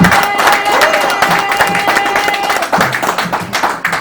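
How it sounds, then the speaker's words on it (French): Guests at a civil wedding ceremony break into loud, sustained clapping and cheering, a dense crowd sound with voices and whistles mixed in and some talk audible beneath. "Acclamons encore très fort."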